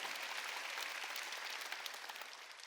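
A church congregation applauding during a Sunday worship service, a dense wash of clapping from many hands at moderate distance, steady throughout and tapering slightly at the close.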